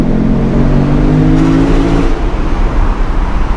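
A 2018 Lexus RC F's V8 engine revs inside a tunnel, its loud droning note rising steadily and then shifting into a rougher, echoing roar close by.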